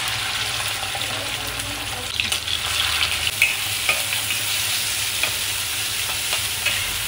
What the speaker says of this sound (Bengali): এই মেটেগুলো আমি ফ্রাই করবো, একটু তেলটা গরম হোক